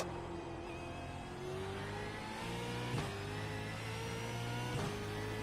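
Racing game V8 Supercar at Sebring, its engine droning steadily with two sharp throttle blips on downshifts, loud and close, with rising and falling engine pitch and no talk.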